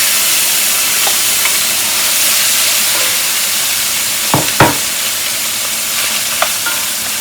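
Ground beef stirred into small garden potatoes in an oven-safe skillet, a steady loud sizzle and hiss of frying with a couple of brief scraping stirs partway through.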